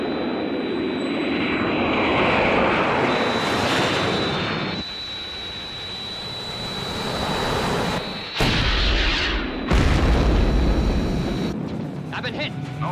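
Roaring aircraft engines and heavy blasts from an aerial attack in a Thunderbirds episode, a loud sustained drone broken by abrupt cuts and booming impacts, with whining jet tones throughout.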